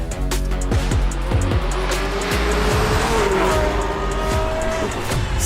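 A 6.5-litre V12 car roars past on the Thruxton circuit, loud and close, with engine revs sweeping up and down through gear changes and a brief tyre squeal, no talk.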